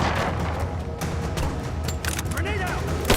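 Gunfire and booms from a combat fight in the video game Rise of the Tomb Raider, dense and continuous under loud overlapping shouting voices.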